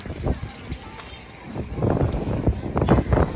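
Strong gusts of wind on a sunny Qingdao street buffet the microphone in uneven, rumbling bursts that grow louder and more frequent toward the end.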